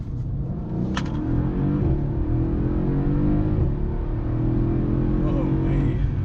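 A Mercedes-Benz AMG CLS 63 S accelerates on the road, heard from inside as a loud, steady low rumble with a gradually rising engine note, with voices speaking over it.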